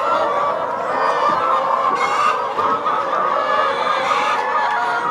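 Many chickens on a Ugandan poultry farm cluck and chatter together, a dense, loud, continuous flock noise with occasional louder squawks standing out, close by and with no talk over it.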